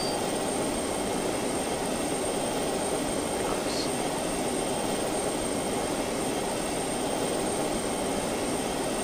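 Steady, loud drone of a plane engine in the PC game Just Cause 2 multiplayer, a continuous roar filling the whole stretch with no talk over it.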